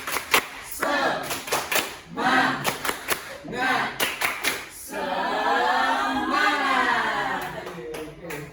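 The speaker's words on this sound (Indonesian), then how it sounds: "Ayo Mas, kita tepuk semangat dulu biar fresh lagi, biar fokus lagi" Group of teachers-in-training performing the tepuk semangat, a rhythmic spirit clap in a classroom session: bursts of patterned clapping in unison alternating with chanted shouts, closing in a loud group cheer.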